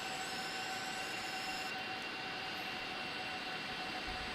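Boeing 747-200 freighter jet engines winding down in a flight simulator, a steady whining drone with high tonal lines holding evenly and faintly shifting, no voices over it.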